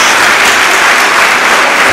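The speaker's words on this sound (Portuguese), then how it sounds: "Ele merece uma salva de palmas." Church congregation applauding together, a loud, dense and steady clatter of many hands clapping close by with no pauses.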